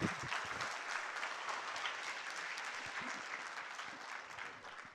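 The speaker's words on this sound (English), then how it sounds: "okay, one person applauding." Applause from a tech conference audience, a steady dense patter of many hands clapping throughout, moderately loud and continuous with no talk over it.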